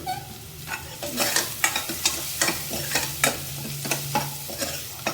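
Onions sautéing in a pan for a spicy chicken fry, a soft steady sizzle under rhythmic scraping strokes of a spoon stirring them, close and fairly quiet.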